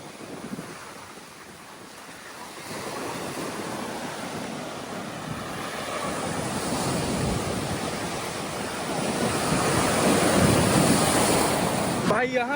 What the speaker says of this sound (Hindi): लेकिन तेज लहरें भाई समंदर की।